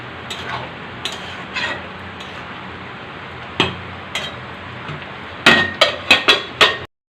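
Boiled potatoes and soybeans in a pan mashed with a utensil, scattered soft knocks and scrapes, then a quick run of sharper taps against the pan, close by.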